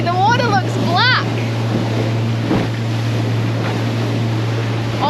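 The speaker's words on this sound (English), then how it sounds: "Very disturbed sea." Rough, disturbed open sea off Australia near the continental shelf, with steady wind and water rushing against a boat under a constant low engine hum, while people talk briefly early on.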